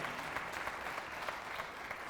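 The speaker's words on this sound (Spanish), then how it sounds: "vamos a terminar la charla con un aplauso a Javi" Steady applause from an audience at the end of a talk, a dense wash of many hands clapping continuously at moderate volume with no voices standing out.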